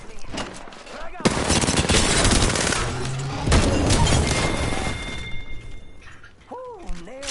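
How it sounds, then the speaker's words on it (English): In a shooter video game, loud, dense bursts of automatic gunfire and rapid shots crackle continuously for several seconds, then drop away to scattered effects and a rising-and-falling tone. "They're shooting at me"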